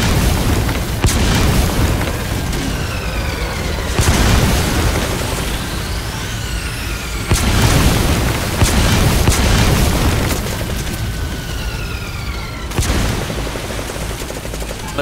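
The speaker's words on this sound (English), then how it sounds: "Let me hit the mortar with a mortar." Mortar rounds explode in the video game Metal Gear Survive: a string of deep, heavy booms land every few seconds over a loud, continuous rumbling battlefield bed, with whistling descending tones between impacts.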